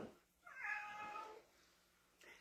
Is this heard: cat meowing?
yes